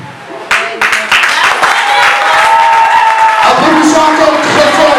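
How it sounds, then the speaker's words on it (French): Wedding guests burst into loud applause that builds after a brief start, with whoops and shouted cheers rising over the sustained clapping. "Applaudissons encore très fort"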